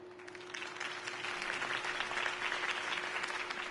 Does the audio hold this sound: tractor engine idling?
no